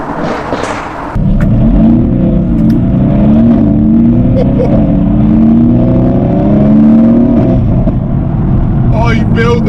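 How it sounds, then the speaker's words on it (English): A Renntech-tuned Mercedes-AMG GT S accelerates hard through second gear, its engine note droning loudly and climbing steadily up the rev range for several seconds, heard from inside the car. "Oh, you build the noise up the rev range."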